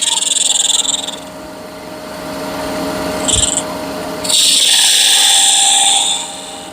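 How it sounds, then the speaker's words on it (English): A small skew chisel cleans up the edge of a wood-turning piece on a lathe, giving two bursts of bright, hissing cutting noise over a steady low machine hum, with a brief scrape between them. "take my little skew, and I just want to clean this edge up"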